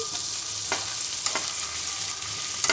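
Chilli strips fry with ginger-garlic paste in hot oil, a steady bright sizzle broken by a few sharp scraping clicks as a spatula stirs the pan.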